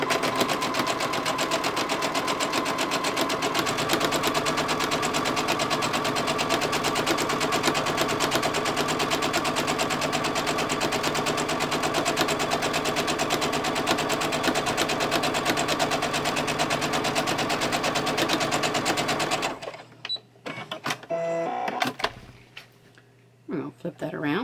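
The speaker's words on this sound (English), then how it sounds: "We're just going to sew down this side." A sewing machine with a piecing foot runs steadily down the side of quilt fabric in a fast, even mechanical rattle for about twenty seconds, then stops, leaving a few soft handling clicks and taps.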